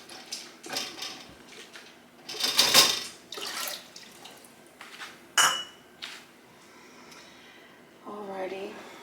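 Glass jars of dilly carrots knock and clink against each other in a water bath canner, with irregular clatters and splashing water, and a voice briefly speaking near the end.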